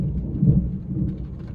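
A thunderstorm with low, rolling thunder and steady rain, heard as a soft, muffled rumble with no voices.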